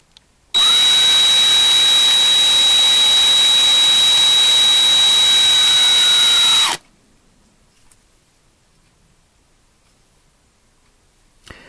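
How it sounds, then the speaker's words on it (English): A power drill bores out a rivet on a 1/64-scale diecast car, a loud steady high whine with a faint beeping tone that runs for about six seconds and then cuts off, leaving near silence. "So let's drill that out"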